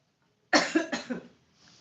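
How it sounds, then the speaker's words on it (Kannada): A burst of about four quick, close coughs in a row, following silence and fading into a faint breath. "ಕೆಮ್ಮು ಬರ್ತಾ ಇದೆ"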